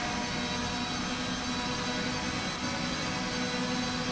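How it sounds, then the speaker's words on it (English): A Hyundai inline-four touring car engine in the Rennsport racing game drones loud and steady at top speed, a constant high-revving roar with no talk. "we get the lovely sound of Hyundai's inline 4 touring car engine"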